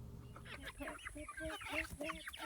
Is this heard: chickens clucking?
yes